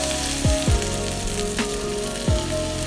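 Butter and half and half sizzle steadily in a hot pan while crab cakes are being made, a dense close frying hiss with a few soft knocks of a utensil against the pan.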